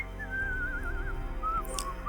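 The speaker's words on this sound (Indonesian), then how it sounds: "dia mendengar suara seseorang sedang bersiul" A lone person whistles a thin, wavering tune as an eerie horror-story effect near a graveyard, drawn-out notes gliding up and down over a low hum, heard alone with no talk.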